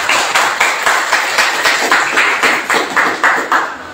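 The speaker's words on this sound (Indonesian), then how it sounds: "Beri tepuk tangan yang meriah." Crowd applause at a school anniversary entrepreneurship webinar, loud and close, with hands clapping together in a steady rhythmic beat of about ten pulses.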